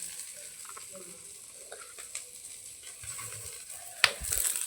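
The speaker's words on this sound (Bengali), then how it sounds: "এখন 5 ফোড়ন আর শুকনো লঙ্কা দিয়ে দিয়েছি।" Panch phoron seeds and dried chillies sizzling in hot oil, a faint steady crackle with light spoon clinks and a sharper tap near the end, no talking.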